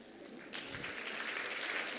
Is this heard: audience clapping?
yes